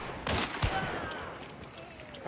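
Sniper rifle fire in the video game Hunt Showdown: a couple of sharp, loud reports close together, fading into a reverberant tail over a noisy game soundscape.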